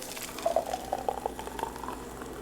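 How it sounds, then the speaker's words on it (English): Lemonade poured into a cup rimmed with salt, a short trickling, bubbling stream with small splashy gurgles, fairly close and quiet. "and then pour the lemonade"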